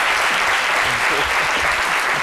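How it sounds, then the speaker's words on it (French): Dense, loud applause from a crowd, continuous clapping throughout with no pauses. "Je vous demande de l'applaudir très, très fort."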